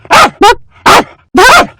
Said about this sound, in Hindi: अचानक कुछ कुत्ते भौंकने लगे